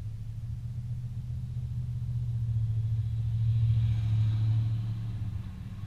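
A steady low engine rumble and road drone from an off-road vehicle driving fast over desert tracks at Cactus Flats in the San Bernardino Mountains, swelling slightly and then easing, with no talk.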